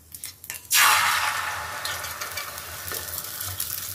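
An egg drops onto a hot tawa griddle and bursts into a loud, steady sizzle that keeps crackling and hissing as it fries, close by with no talk.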